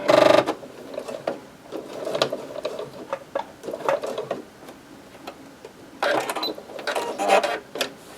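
A sewing machine tacks a short stay stitch into the center of a custom Bible cover, running in several brief bursts of rapid mechanical clatter with pauses between, close and moderately loud.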